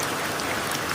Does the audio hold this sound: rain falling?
yes